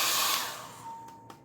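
A hair dryer blows warm air over a freshly painted watercolor of a cloudy sky and beach, a steady close airy whoosh that softens and fades over a second and a half.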